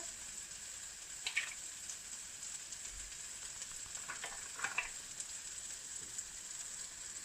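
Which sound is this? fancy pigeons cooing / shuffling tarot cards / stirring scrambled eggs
stirring scrambled eggs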